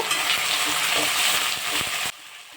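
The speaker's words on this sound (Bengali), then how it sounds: "পেঁয়াজটা ভালো করে ভেজে নেব।" Onions sizzling in a pan for mutton kosha, a dense, loud frying crackle with light stirring clicks throughout, cutting off abruptly near the end into quieter background.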